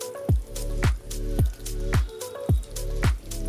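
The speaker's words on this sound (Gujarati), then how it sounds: "તો હવે આપણે ધીમે ધીમે ગોળ એડ કરી દઈશું." Jaggery being stirred into roasted pearl millet flour in ghee gives close, wet squelching and sizzling pulses that repeat about every half second, steady and alone.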